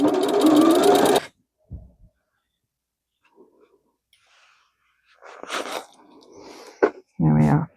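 A sewing machine runs in a fast, loud buzzing burst of stitching through fabric, then stops; quiet handling clicks follow, and a second short burst of stitching ends the stretch, with a voice speaking briefly in between.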